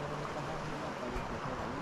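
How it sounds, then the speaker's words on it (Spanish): Steady broadband rush of the Quezalapa river flowing where it meets a stream along a footpath, a continuous even wash of moving water without breaks. "Y aquí está otra vez el río Quesalapa."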